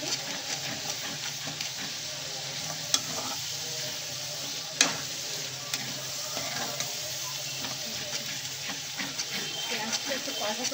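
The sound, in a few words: onions being fried and stirred in a pan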